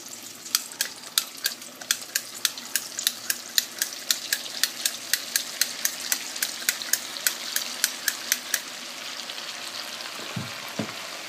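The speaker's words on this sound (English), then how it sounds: "I'm going to pump it into the oil, and let's see how it comes out" Churro dough pumped into hot frying oil gives a steady sizzle with a fast run of sharp crackling pops spread through, close and moderately loud, with a few low knocks near the end.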